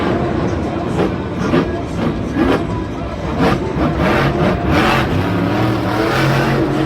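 The Mohawk Warrior monster truck revs its engine during freestyle at Monster Jam Minneapolis 2019, a loud continuous roar with surging revs beneath dense arena crowd noise.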